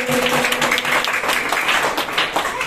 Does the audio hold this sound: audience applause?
yes